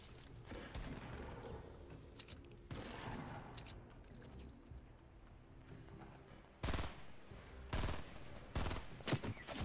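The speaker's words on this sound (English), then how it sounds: "Oh, I got shot from behind." Gunfire in Fortnite Battle Royale, with bursts of rapid shots hitting the player, loud clustered cracks over a busy game background, strongest in the last few seconds.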